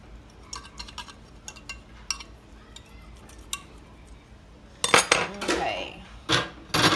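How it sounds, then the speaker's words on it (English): Butter knife scraping and clinking around the edges of a metal baking pan holding lemon zucchini bread, a few quiet taps early on, then a burst of louder scraping and clattering toward the end. "I'm just going to run a butter knife around the edges to kind of loosen it up"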